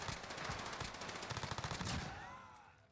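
Rapid automatic gunfire from a submachine gun in the video game Warzone, a dense burst of quick shots lasting about two seconds before a short whistling tail.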